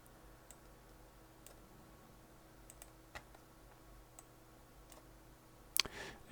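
Sparse, faint key presses on a computer keyboard during spreadsheet entry, isolated soft clicks spaced irregularly over a quiet hum, ending with a louder cluster of clicks.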